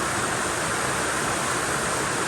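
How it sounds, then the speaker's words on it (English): Heavy rain pouring down outdoors, a dense, steady broadband hiss that holds at an even loudness throughout with no other sounds standing out. "It's pissing down outside, so apologies for the rain."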